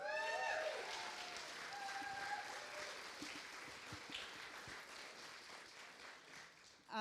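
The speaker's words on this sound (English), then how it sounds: "So I think we should all give her a round of applause" Applause from the audience at a charity boxing weigh-in, a steady wash of many hands clapping that holds for several seconds and then tapers off, with a few faint voices underneath.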